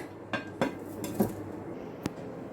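A lid set onto a pot over a gas stove, giving a few sharp metallic clinks and taps, close and spaced apart, with a low background hum.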